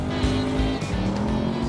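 A Chevrolet Camaro V8 lapping a race track, its engine note loud and close with steady harmonic drone, shifting pitch through gear changes, with tire noise underneath.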